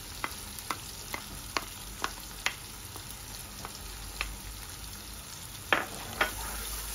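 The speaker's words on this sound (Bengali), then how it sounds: "ইলিশ মাছের ডিমটাকে একটু ভালোভাবে মশলার সাথে কষিয়ে নিব" Beaten hilsa fish roe fries with spices in a pan under a soft continuous sizzle, while a spatula scrapes and taps the pan in a string of light, irregular clicks, close and fairly quiet with no talking.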